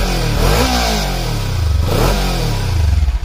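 A Kawasaki Ninja 300 BS6 motorcycle engine revs hard nearby, its pitch sweeping up and falling back twice in quick blips, loud and unaccompanied by talk.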